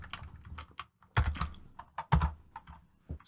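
Light clicking of keys on a computer keyboard, in short irregular bursts with a couple of heavier key thumps, close and fairly quiet, with no talking.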